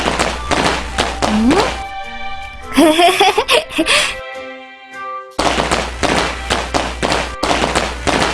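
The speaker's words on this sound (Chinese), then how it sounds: "这是鞭炮的声音。" Loud, rapid strings of firecrackers crackling close by for Chinese New Year, broken by a short pause where a voice and tonal sounds come through.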